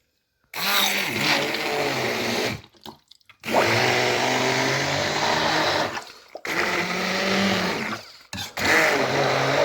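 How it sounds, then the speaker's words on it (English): A hand blender whirs loudly in three bursts, stopping briefly between them, with the motor pitch wavering as it blends tomatoes. "I'm going to give the tomatoes a quick whiz before I go any further."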